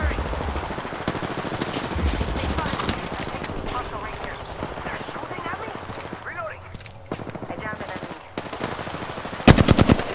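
Rapid automatic gunfire in the video game Apex Legends rattles in long dense bursts, loud and close, with a heavy final volley at the end, mixed with game voice lines and other battle noise.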